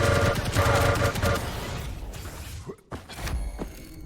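Shotgun blasts in a competitive online video game duel, several loud close reports in quick succession at first, then scattered thuds and a sharp crack under faint background noise.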